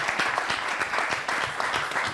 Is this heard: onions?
no